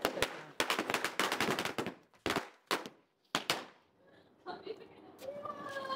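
Diwali firecrackers go off nearby at a night festival celebration, with rapid loud crackling bursts in quick volleys, then scattered single bangs and a fizzing whistle as the popping fades.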